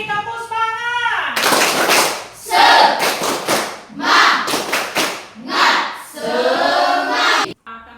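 A school class performs the rhythmic 'tepuk semangat' clapping chant, loud bursts of sharp hand claps alternating with children's shouted chanting, led by a teacher's voice.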